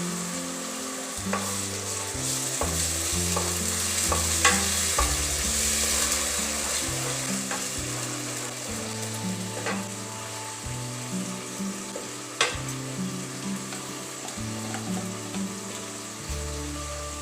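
Tomato puree hits a hot pan with a loud sizzle, then keeps bubbling and spitting while a utensil stirs and scrapes, all close up with no voices.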